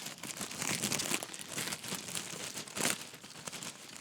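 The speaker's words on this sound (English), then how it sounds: "Doing a bad job of breaking these bags open" White plastic bags holding sails for a 1/200 Zvezda Kruzenshtern four-masted barque model crinkle and crackle as they are torn open, a close, continuous rustling with sharper crunchy bursts.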